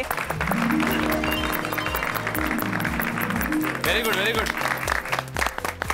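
Loud, sustained applause from a crowd honoring the backstage crew of hairdressers, makeup artists and costume designers, with speech-like voices and music mixed under the continuous clapping.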